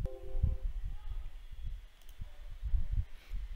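Soft, irregular mouse clicks from someone working through a Windows 11 installation and bootable USB setup on a computer, a handful of quiet taps over a low background hum.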